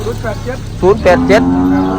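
Cattle moo repeatedly at a livestock market in Sakon Nakhon, Thailand, several loud drawn-out calls close by over a busy background.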